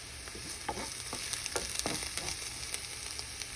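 Spring roll filling of chickpeas, corn and carrots being stirred and mixed, with soft scraping and clicking strokes repeating close by over a steady background hiss.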